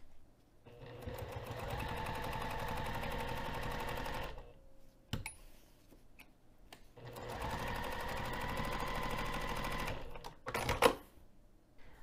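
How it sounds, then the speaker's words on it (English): A sewing machine stitches a dart with a lengthened stitch, running in two steady buzzing bursts of rapid rhythmic needle clatter separated by a pause, close by and loud, with small handling clicks between and no talk. "So I'm going to take that over to the sewing machine now."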